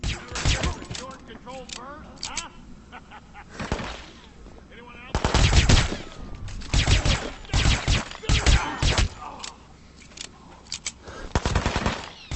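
Rapid bursts of pistol gunfire in the Hitman: Absolution video game, dual-wielded shots cracking in dense clusters with pauses between volleys, loud and close, with someone talking in between.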